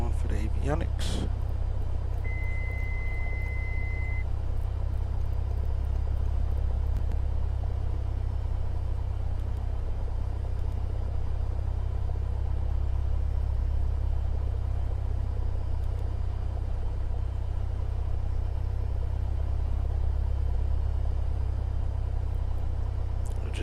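A Cessna 172's piston engine in cruise flight, a steady low droning rumble that continues unbroken throughout, with a brief click near the start.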